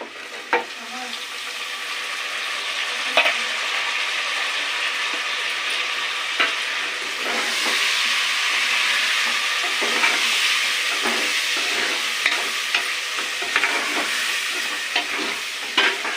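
Tomatoes and onions frying in a pan give a loud, continuous sizzle, broken by scraping and stirring knocks from a utensil at irregular moments. Nobody speaks.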